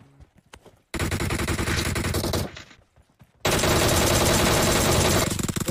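Rapid automatic gunfire from a video game, loud and close, coming in two long sustained bursts separated by a short pause, with brief quieter sounds before the first burst.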